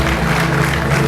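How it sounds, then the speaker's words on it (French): Applause from guests at an evening party celebration, a steady dense wash of clapping that fills the moment without a break, loud and close, with no voices standing out. "On peut encore les applaudir, je vous en prie"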